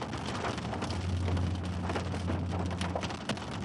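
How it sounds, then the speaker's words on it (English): Hail and heavy rain pelt a vehicle during a severe Central Texas storm: a dense, steady drumming with scattered sharp, louder impacts over a low engine hum. "I'm getting a few hailstones here again."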